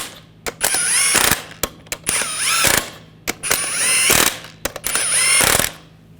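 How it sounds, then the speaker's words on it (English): Hand ratchet snugging lug nuts onto a 2014-2018 GMC Sierra 1500 front wheel, loud close bursts of rapid clicking repeated four times with short pauses between. "Get the lug nuts started. And snug these down."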